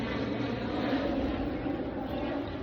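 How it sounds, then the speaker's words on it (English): An airplane passes overhead as a steady, broad engine drone that holds level throughout, fairly loud and with no talking. "We'll let the plane go over since he's wanting to be loud."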